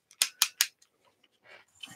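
Scissors snip marks into a texture plate, three sharp quick cuts in a fast rhythm, close and crisp, then quieter scraping and rustling as the blades shift on the material.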